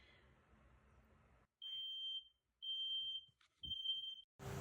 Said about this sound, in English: a fire alarm that was tucked into the workshop, into the closet, just went off for no reason and tested itself